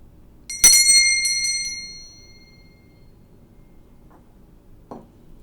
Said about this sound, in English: I'm going to ring the bell to call upon your angels and your spirit guides